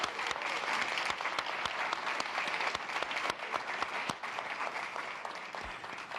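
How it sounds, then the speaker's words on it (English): Audience applause after a conversation with a NASA crew in space, a dense, steady wash of many hands clapping at full volume throughout, with no voices rising above it. "and give them a round of applause"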